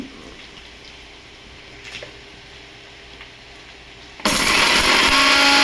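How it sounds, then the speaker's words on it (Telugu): A mixer grinder jar holding spices and curry leaves for curry leaf masala powder sits quiet with a few faint clicks, then roars on abruptly near the end as a loud, steady grinding whir. "ఇప్పుడు ఇవైతే మిక్సీ పెట్టుకో."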